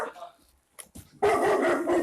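Dogs barking inside a house during a police search, a burst of loud, close barks and yips that break out after a brief quiet, with people talking around them.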